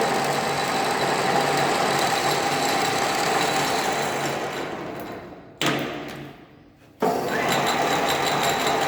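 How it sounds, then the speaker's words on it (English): An industrial machine tool gearbox runs with a loud, steady mechanical whir and hum, cutting out abruptly twice in quick succession as gears are shifted out of mesh, then resuming at full level. "We just shifted this gear. Now this gear is not in mesh."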